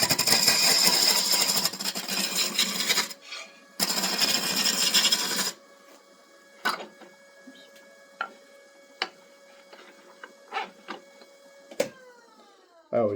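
A wood lathe turning a wooden vase gives a loud, steady broadband grinding rush in two bursts over the first five seconds, then drops to a quiet hum broken by scattered faint clicks and taps.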